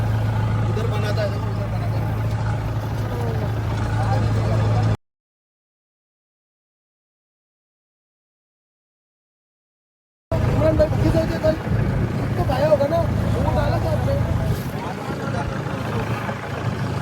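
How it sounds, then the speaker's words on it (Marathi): A fishing boat sets off with its engine running in a steady low drone, voices talking over it; the sound cuts out completely for several seconds midway, then the engine and chatter return. "निघाली आमची होडी."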